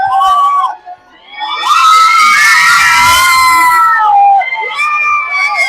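At Rani Baug zoo, a crowd screams, shouts and cheers loudly as a tiger arrives. High, sustained excited cries from many people, mostly children, rise and swell together with brief pauses.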